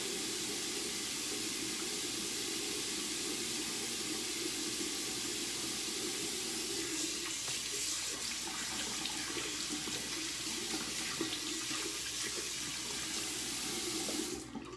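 Tap water runs steadily into a sink while someone rinses their face after a pineapple exfoliation, a close, continuous hissing splash that stops abruptly at the end, with no talking.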